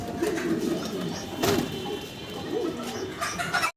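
Pigeons on a farm give several soft, low cooing calls spaced across a noisy, busy background, with a couple of sharper bursts of noise between the coos.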